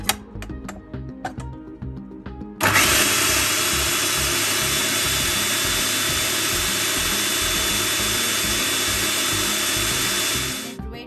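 A food processor grinding soaked split peas for Guyanese dhal puri starts abruptly after a few light taps and runs as a loud, steady, close whir for about eight seconds before winding down.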